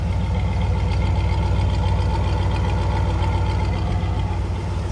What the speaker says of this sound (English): the engine bay open with the car running